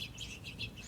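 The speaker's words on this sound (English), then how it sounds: "I've got finches all over" Finches chirp outdoors on a spring day in North Carolina, with faint, repeated high twitters spread across the moment over a low background hum.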